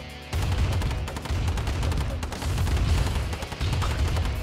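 Infantry units in Command & Conquer Remastered firing on a building, with rapid bursts of gunfire and booming shots repeating loudly and continuously, no talk over it.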